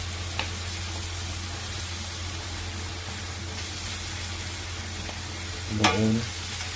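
Chicken frying in a pan with crushed black pepper, Bisaya style, being stirred: a steady close sizzle throughout, with a brief louder scrape of the spoon near the end.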